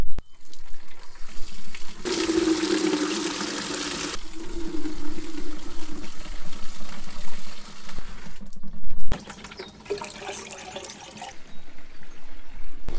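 Water running from a tank tap into a bucket to water a garden, a loud gushing stream for about two seconds, then a quieter steady trickle and rush with faint clunks.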